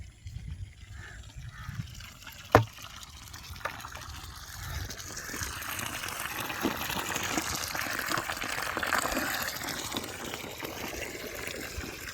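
Water from a pipe rushes steadily into a container, a broad hiss that builds and grows slightly louder, with one sharp knock near the start.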